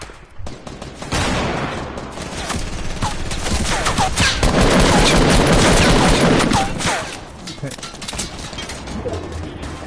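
Rapid submachine gun bursts crackle in a close-quarters squad shooter game, dense and loud in the middle stretch then thinning out, with other gunfire and game effects mixed in.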